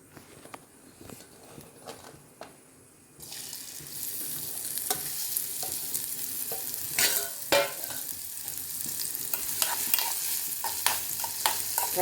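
Onions frying in a little oil in a pan: after a quiet start with a few faint taps, a steady sizzle begins, broken by repeated spoon scrapes and knocks as they are stirred, close and moderately loud.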